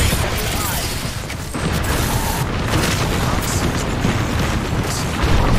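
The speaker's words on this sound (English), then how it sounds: "Throwing a thermite grenade." A thermite grenade thrown and bursting in the battle-royale shooter Apex Legends, a loud, sustained roaring boom amid continuous heavy combat noise, with brief speech mixed in.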